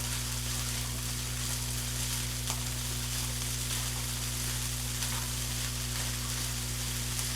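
Egg frying for garlic fried rice gives a steady, dense sizzle throughout, with a constant low hum beneath and occasional faint scrapes of a spatula breaking up the egg.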